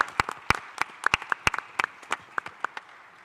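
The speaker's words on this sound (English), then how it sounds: "deserves another round of applause from all of us for her work" An audience applauds the Minister of Food Security, with scattered individual claps that start and stop unevenly across a few seconds, moderately close, with no talk over them.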